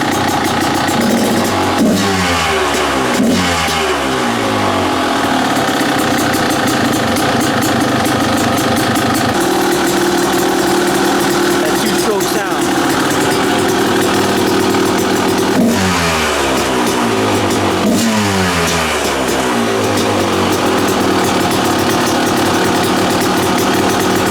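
A Kawasaki KDX 220 dirt bike fitted with a new FMF exhaust pipe runs loud and close, idling steadily with several sharp throttle blips and revs rising and falling throughout.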